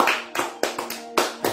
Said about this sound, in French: Nous acclamons pour la gloire de Dieu